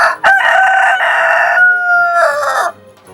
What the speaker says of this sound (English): climb up that great big rooftop, crawl out to the edge of the roof, and then crow as loud as he can.